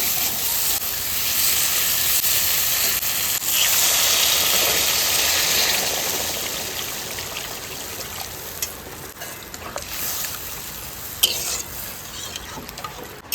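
Water poured onto spice paste and potatoes frying in a pan for fish curry gives a strong steaming hiss that swells and then settles into quieter sizzling with occasional stirring clinks, close up.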